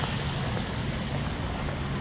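Water runs continuously in an outdoor courtyard, a steady broadband rush mixed with some wind noise on the microphone and no talking.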